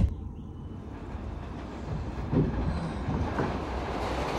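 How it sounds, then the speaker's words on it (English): Train rumbling past at close range, a steady broadband roar with a faint rhythmic rattle of wagons, sustained through the whole stretch with no talk over it. "We got a train."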